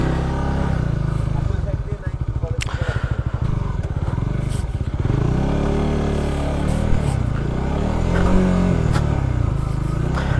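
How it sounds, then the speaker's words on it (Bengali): A CBR motorcycle engine revving as it is ridden down onto a sandy beach, loud throaty rumble rising and falling with throttle under talking. "এইভাবে আমরা বাইকটা নামাইলাম আর কি বিচের মধ্যে"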